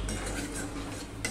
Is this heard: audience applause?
no